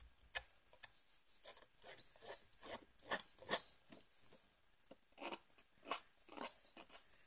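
A distressing tool is rubbed along cardstock edges in a quick series of faint, close scraping rasps, repeated in uneven bursts.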